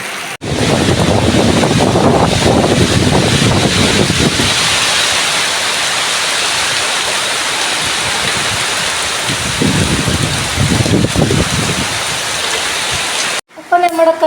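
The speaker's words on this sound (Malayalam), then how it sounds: "നല്ല മഴയാണ്. മഴൻ്റെ ശബ്ദം കൊണ്ട് കേൾക്കുന്നുണ്ടോ എന്നറിയില്ല." Heavy monsoon rain pours steadily outside a Kerala kitchen while fish is being cooked, a dense continuous hiss that stays loud throughout, with a voice speaking over it at times.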